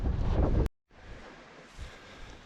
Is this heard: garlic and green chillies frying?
no